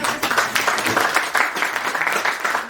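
Applause at a Hindi poetry event's fifth annual celebration, a steady wash of clapping from the audience lasting throughout, moderately loud with faint voices underneath.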